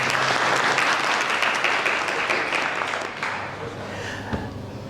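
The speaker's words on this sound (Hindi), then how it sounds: "एक बार आदरणीय सर के लिए जोरदार तालियां आपके प्रिंसिपल सर के लिए।" An audience at a government postgraduate college event in Sirohi breaks into loud, dense applause for the principal, the clapping thinning gradually toward the end.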